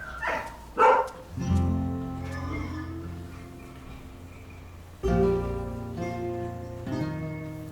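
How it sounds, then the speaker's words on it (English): Herd guard dogs bark in the Swiss countryside: a few sharp barks, then longer howling, whining calls in two bursts, moderately near, with no speech. "Herd guard dogs."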